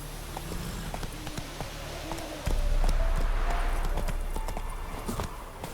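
Roach the horse in The Witcher 3 video game, rhythmic hoof clip-clops building from a trot into a louder galloping drumming that carries on steadily over game ambience.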